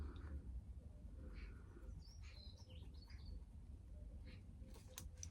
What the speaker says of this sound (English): can you hear the magpies?